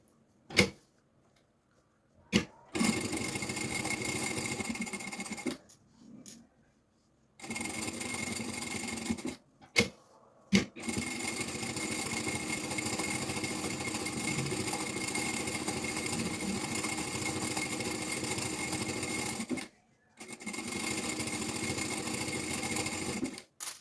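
A sewing machine runs close by, stitching around a children's backpack lining in long steady bursts, broken by short stops and a few sharp clicks between runs.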